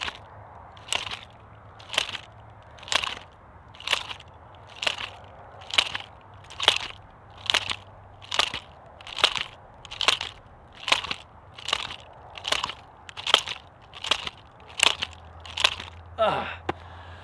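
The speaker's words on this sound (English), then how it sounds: "We want to also hear the snap with the nunchaku," Nunchaku snapping sharply during martial arts technique practice, about sixteen crisp cracking hits spaced roughly a second apart in a steady rhythm, fairly close with quiet gaps between them.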